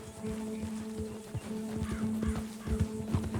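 A horse in the video game Red Dead Redemption 2, hooves thudding in an uneven gallop with a whinny mixed in, set against a steady musical drone and moderate game ambience.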